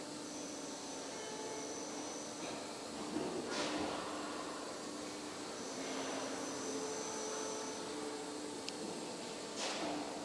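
An automatic C and U purlin roll forming machine for 4 mm steel channel runs with a continuous industrial hum and whine, punctuated by a few brief whooshing or clanking bursts, steady and moderately loud.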